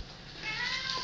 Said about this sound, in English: we got some excited little kitty chorus going on here